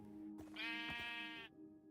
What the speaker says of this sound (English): There is a sheep here as well?